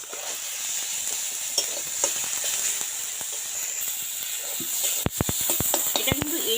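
Steady sizzling of onion and tomato frying in a pan, with a spoon stirring and clinking against the pan now and then, and brief voices toward the end.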